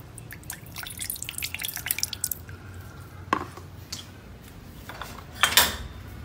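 Strong longan tea concentrate is poured into a glass, with drips, splashes and light clinks of glassware coming and going up close.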